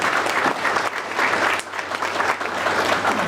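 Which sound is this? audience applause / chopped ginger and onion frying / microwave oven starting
audience applause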